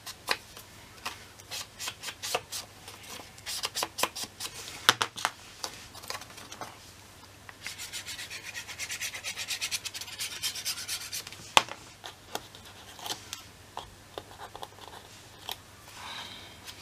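Paper edges for a scrapbook album are inked and rubbed, making close, dry scraping and rasping strokes in quick repeated bursts, with a few sharper taps along the way.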